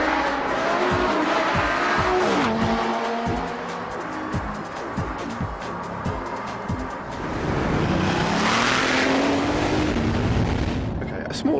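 A Lamborghini Gallardo Superleggera drives hard and loud, its engine note rising and falling through gear changes with tire squeal and skidding noise, and a surge of revving near the end.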